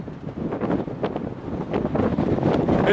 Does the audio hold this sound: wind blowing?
yes